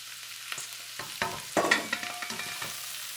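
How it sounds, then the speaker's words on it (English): Shiitake mushrooms dropped into a hot pan with garlic, a sharp burst of sizzling at about the midpoint followed by steady frying crackle and a few clinks of stirring, close and fairly loud, with no talking. "And now you can add the mushroom in it."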